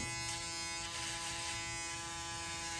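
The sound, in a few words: electric hair clippers cutting a taper fade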